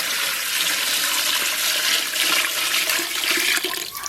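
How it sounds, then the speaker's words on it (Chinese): Water rushes steadily into a cooking pot holding pig trotters, caramelised sugar colouring and whole spices for braising, a loud close splashing pour lasting several seconds. "然后咱们给锅里边稍微来点水"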